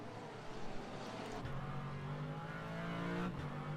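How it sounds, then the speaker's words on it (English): A Corvette GT3 race car engine in a sim racing game at Zandvoort, a steady loud engine tone that shifts pitch as it climbs through the gears out of a corner. "The sound of that Corvette coming out of those corners is so nice"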